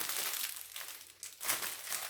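Plastic packaging from an AliExpress parcel crinkles and rustles continuously up close, in uneven bursts with a couple of sharper crackles as it is pulled open.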